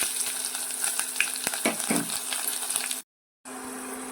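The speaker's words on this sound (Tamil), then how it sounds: "கொஞ்சமாக ஊற்றிட்டு அதோட கொஞ்சம் கடுகு சேர்த்துப்போம்" Mustard seeds fry in a little hot oil with a steady, bright sizzle and scattered crackles, broken by a brief silent gap before the sizzling resumes.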